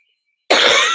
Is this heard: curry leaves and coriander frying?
no